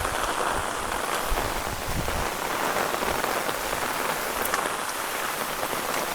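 Steady heavy monsoon rain at Matheran hill station, India, patters down on surfaces, a dense continuous hiss with scattered drips, no talking.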